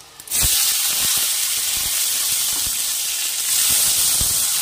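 Large chunks of chopped tomato hit hot oil spiced with whole garam masala and cumin seeds for palak paneer, setting off a sudden loud, steady hiss and sizzle that continues close up without talk.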